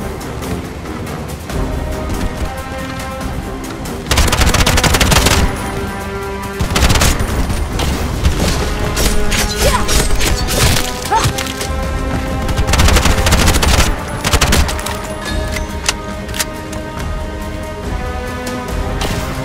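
Loud, dense gunfire from the video game Bright Memory Infinite, with bursts of rapid shots and a heavy grenade blast that booms over the top, sustained and close across the whole stretch.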